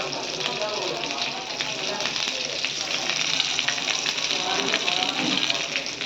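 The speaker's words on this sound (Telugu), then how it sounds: "కొంచెం పచ్చిమిరపకాయలు వేగాలి బాగా ఆయిల్లో." Green chillies fry in hot oil in a kadai, a bright, crackling sizzle that holds steady and close throughout, with spatters and light stirring noises but no talk.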